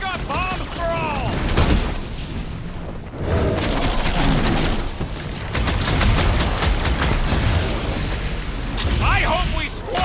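Bombs explode in rapid succession during a battle in Marvel's Guardians of the Galaxy, a dense barrage of loud booms and rumbling blasts that continues for the whole stretch while characters shout and talk over it.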